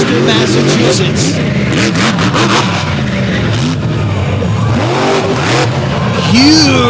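Joe Foley's big red fire truck from Columbus, Michigan launching at the Fowlerville Throwdown wheelie contest: a loud, close engine roaring and revving with rising and falling pitch sweeps, and a commentator talking over it.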